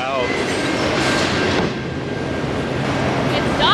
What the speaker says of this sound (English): Well, there's a train